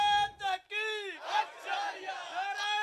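A crowd at an urs gathering honouring the Ahl-e-Bait shouts a religious slogan back in unison, with loud, sustained, chant-like voices rising and falling over about three seconds.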